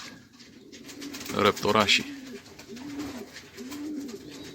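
Soft repeated cooing of sport and hunting pigeons, several low rolling calls in a steady rhythm, with a brief burst of a voice partway through.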